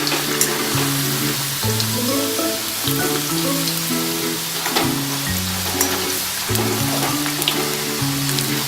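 Raw banana (vazhakkai) slices fry in hot oil with a dense, steady crackling sizzle that runs throughout, while a melodic background music track plays underneath.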